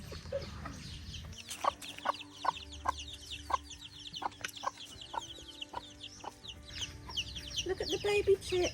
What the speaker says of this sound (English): Look at the baby chicks.